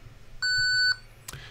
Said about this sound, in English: you can hear the beep, so it's processing.